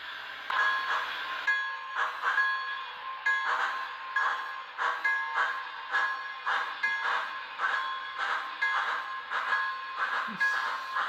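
An MTH HO-scale Allegheny H8 2-6-6-6 model steam locomotive runs along the track, giving steady rhythmic chuffing about twice a second with faint whistle tones above it.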